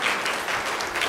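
An audience at a government campaign launch in Nizar breaks into a brief, dense round of applause, steady, full clapping lasting just over a second with no talking.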